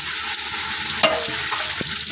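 Steady, dense sizzle of fish frying in a hot pan, with a few soft clinks of a utensil stirring partway through.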